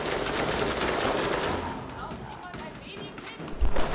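Rapid gunfire from the video game Borderlands crackles in dense bursts through the first half and again near the end, with players talking over it throughout.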